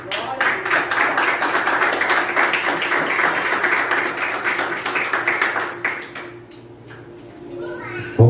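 A church congregation claps together in a dense, steady burst for about six seconds, then the applause fades out and a voice begins speaking.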